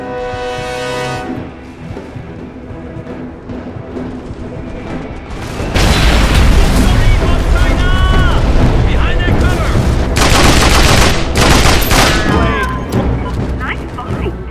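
Bomb blasts in the action game Mercenaries 2 on PS3: a sudden loud, sustained barrage of booming explosions and crashing debris kicks in partway through, following a quieter stretch, with shouted voices and game sounds layered on top.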